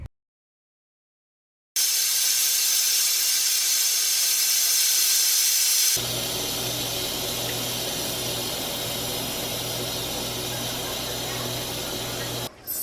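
A pressure cooker holding chicken stew with potatoes, taken off the heat and vented before the lid is twisted open, lets out a loud continuous hiss of escaping steam that eases somewhat midway and stops abruptly at the end.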